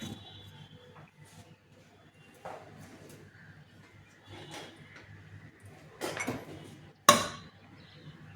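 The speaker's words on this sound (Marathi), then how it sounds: "आता मी याच्यावर झाकण ठेवते आणि त्याच्यावर जरा वजन ठेवते" Lid set on a cooking pot with a weight placed on top, sparse metallic clinks and knocks, one sharp clang near the end, in a quiet kitchen.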